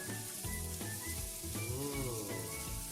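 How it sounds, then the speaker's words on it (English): Sausage frying in butter in a pan, giving a soft, steady sizzle that stays close but quiet throughout, with faint tonal background sounds and no talking. "after you put the butter, you need to fry the sausage first"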